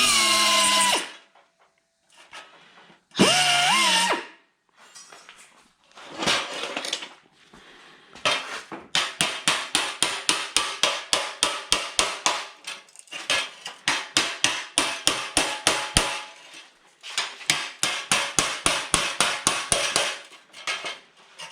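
Rapid metallic hammer blows strike a rusty car body panel during a Cobra Jet restoration, coming in fast bursts of clanging strikes after a few scraping and grinding noises, loud and close with no talk.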